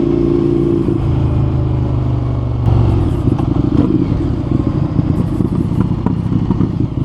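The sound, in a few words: Indian FTR 1200 motorcycle exhaust crackling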